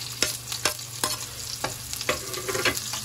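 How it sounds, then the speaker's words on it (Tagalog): Garlic and onion sautéing in a hot pan: repeated spatula scrapes and stirs land about every half second over a steady, close sizzle, with no talking. "naggisa na po siya ng garlic. At ilalagay niya na po ang onion."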